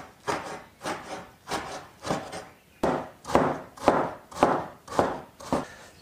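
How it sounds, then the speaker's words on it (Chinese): Half-fat pork is cut and minced with a kitchen knife, giving about ten steady, evenly spaced chops that thud loud and close with no talking. "先切一下之后再把它剁成细末"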